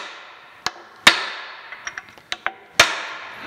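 A hammer taps a center punch on metal brackets for a planer, several sharp, ringing metallic strikes spaced irregularly, some hard and some lighter, close by in a quiet shop.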